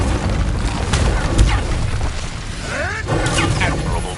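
An Incendio fire spell cast in a Harry Potter video game gives a loud whooshing burst with crackling blasts and a heavy thump, amid game effects and brief chatter.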